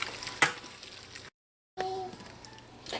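A cornstarch and water slurry is stirred into tofu and vegetables in a hot pan, giving a soft sizzle and light scraping stir that breaks off briefly, then returns with a gentle frying hiss.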